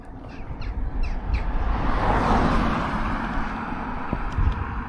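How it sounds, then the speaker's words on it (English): Crows cawing outdoors, a handful of harsh calls in a quick series early on, over steady rumbling wind or traffic noise, with a couple of faint later calls. "Fantastic crows."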